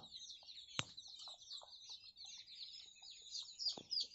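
Young poultry chicks kept for rearing peep and chirp continuously at close range in a quiet pen, with a few soft clucks and a sharp tap or knock standing out among the calls.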